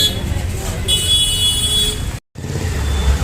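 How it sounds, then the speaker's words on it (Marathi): Heavy road traffic on a busy Indian street, with a continuous roar of engines and tyres and a car horn honking clearly through the middle, while people talk nearby. "ट्रॅफिक भरपूर आहे."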